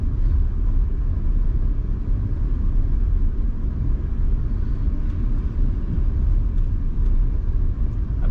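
Interior rumble of a car driving in third gear through city traffic, a steady low engine and road drone that stays constant and fairly loud throughout.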